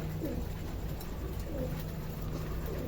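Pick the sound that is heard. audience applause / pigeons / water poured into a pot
pigeons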